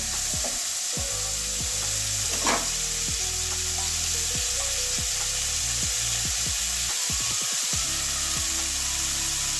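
Bitter gourd fries in oil in a covered pan over medium heat, giving a steady close sizzle throughout. A few scattered clicks and scrapes sound over it.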